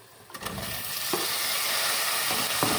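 Onion, tomato and carrot frying with meat in a pan, a steady close sizzle holding throughout with a few soft clinks from stirring.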